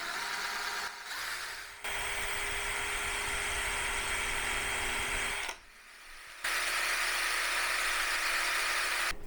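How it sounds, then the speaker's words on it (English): A power drill whirs steadily at high speed drilling holes through a wooden corner piece, stopping briefly twice before spinning up again, loud and close with no talking. "So how about if we drill 2 holes through the corner piece?"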